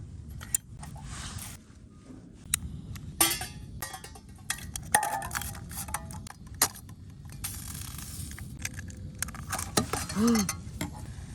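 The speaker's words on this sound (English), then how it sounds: "Unfortunately, my pan fell off the burner, and there's the eggs." A camping pan of eggs on an outdoor burner on a cold winter morning in Kentucky clatters and scrapes in a series of sharp metallic clinks and knocks, with a low rumble of wind and burner underneath.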